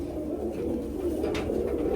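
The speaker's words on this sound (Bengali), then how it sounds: "একটা মাদি কবুতর, এটাও আমাদের ওই জাক জেনারেশনের মাদি একটা কবুতর" A female pigeon of a high-flying breed coos low and continuously, a murmuring throaty rumble heard close over a steady background hum, with no talking.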